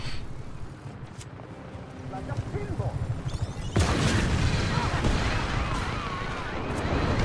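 Heavy explosions and blasts in the video game Just Cause 3, with a sudden loud boom that gives way to a sustained roar of detonations and gunfire, dense and loud throughout.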